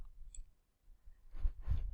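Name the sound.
computer mouse clicking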